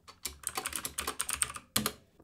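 Keyboard shortcuts for Ableton Live are typed on a computer keyboard in a quick run of close, crisp key clicks, then a short pause and a final pair of presses, with no voices.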